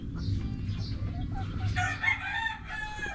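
Chickens cluck and cackle close by, with a rooster's drawn-out crow rising near the end; no speech.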